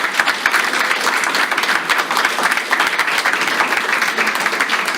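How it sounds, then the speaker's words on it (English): An audience at an honors symposium gives a loud, sustained round of applause for the presenters, with dense clapping and some crisp close claps at a steady level from start to finish. "how about a big round of applause for our presenters?"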